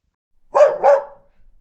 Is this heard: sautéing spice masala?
no